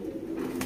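A Saharanpuri pigeon gives a short, low coo, close by and fairly clear against faint background noise.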